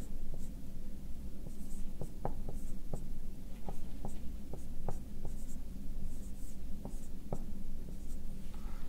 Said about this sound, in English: what we can do is write down the second kinematic equation